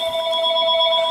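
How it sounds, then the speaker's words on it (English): A phone rings in a workshop where an Evinrude outboard's lower end is being fitted, a steady electronic tone held loud and unbroken for about a second. "that damn phone is blowing up"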